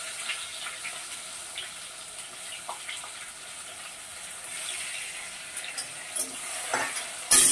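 Tomatoes simmer in a pan, giving a steady soft bubbling hiss with occasional faint clicks and a brief louder knock at the very end, heard alone.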